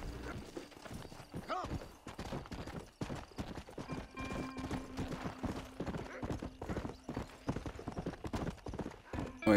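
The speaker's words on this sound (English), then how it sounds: "Get on the horse." Horse hooves clip-clop steadily in the video game Red Dead Redemption, a rhythmic trotting gait at moderate volume under game ambience.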